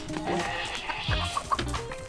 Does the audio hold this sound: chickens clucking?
yes